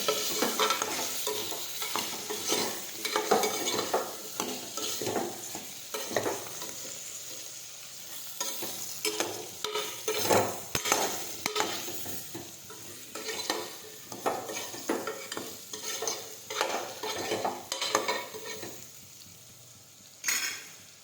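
A spoon scrapes and stirs through sizzling spices in a hot pan, in repeated uneven strokes over a constant frying crackle, with no talking, while cooking an eggplant, potato and pigeon pea curry.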